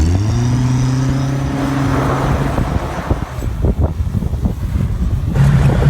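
A stunt driver's car revs and drives off with a rising engine tone, then rough rumbling and rattling as it moves over uneven ground, loud and close.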